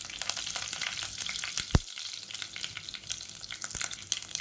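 Curry leaves, mustard seeds and fennel seeds sizzle steadily in hot oil in a cooker, a dense, continuous frying crackle with a few sharper pops and no voices.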